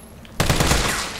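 A short burst of automatic gunfire in Resident Evil 3 breaks in suddenly after a brief quiet moment, loud and close, then trails off in a decaying echo.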